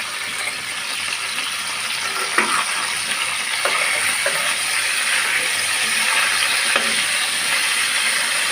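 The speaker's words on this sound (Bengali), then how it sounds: "এভাবে করে আমি সবগুলো চিকেন ভেজে নিই" Chicken pieces fry in hot oil in a lid-covered pan, giving a continuous loud hiss and sizzle with a few faint clinks, no voices.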